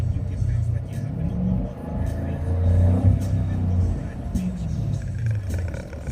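A Dodge SRT8 engine rumbles and revs up in a low, uneven swell, with someone talking over the engine noise.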